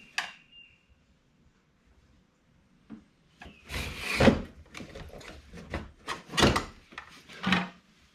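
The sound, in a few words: removing a blower motor from a Saab 9-5 Aero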